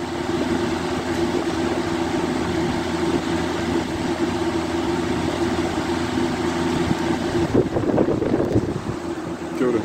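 A Lasko Cyclone 3510 electric fan runs on medium, giving a steady, loud whoosh of moving air with a low motor hum, constant throughout with a brief rise in turbulence near the end.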